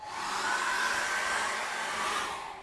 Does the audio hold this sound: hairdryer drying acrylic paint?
yes